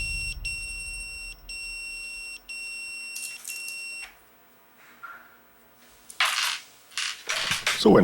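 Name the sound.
pager alert beeping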